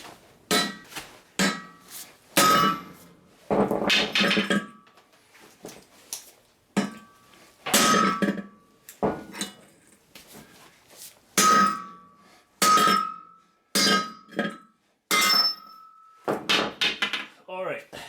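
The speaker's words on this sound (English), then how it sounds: "I'm using this sledgehammer" A sledgehammer hammers a press-in wheel bearing out of a Ford Focus, with about a dozen loud ringing metallic clangs in irregular bursts, separated by short pauses.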